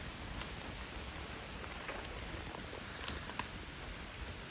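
Dense, unbroken hiss of heavy rain amid strong wind, steady and even throughout with a few sharper drop impacts and no voices.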